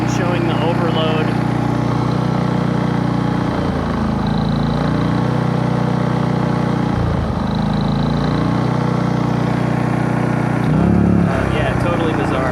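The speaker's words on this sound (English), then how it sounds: "this is alternating between revving and showing the overload" A Westinghouse iGen4500 inverter generator runs with a steady engine drone whose pitch rises and falls as it cycles between revving and overload, close and continuous, with talking over it.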